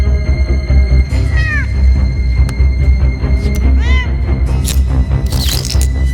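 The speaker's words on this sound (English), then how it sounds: "It's a cat, not Hannibal Lecter." A cat meows twice in clear rising-falling calls, close and loud, over a steady low hum, followed by a burst of hissy noise near the end.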